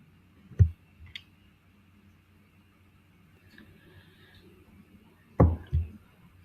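Mouse clicks on a computer while a user navigates a contacts dashboard in GoHighLevel software: a sharp click near the start, another small one, then a louder double click near the end, close and clear over quiet room noise.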